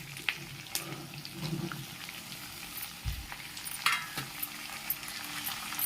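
Onions, curry leaves and green chillies fry in a pan for samiya upma, a quiet, steady sizzle broken by occasional soft clinks and stirring scrapes.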